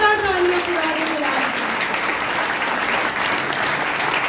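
A congregation at a revival meeting breaks into loud, sustained applause, many hands clapping evenly as a fading tonal note slides down at the start.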